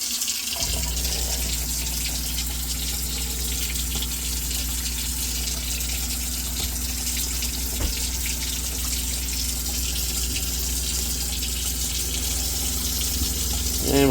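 Water gushes steadily from a kitchen sink faucet in a Northern Spirit 2557RB RV while air is bled from the lines, a continuous close rushing flow with no voices.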